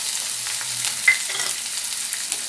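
Thinly sliced onions frying in a pan with curry leaves, a soft steady sizzle alone throughout, with a brief sharper crackle near the middle.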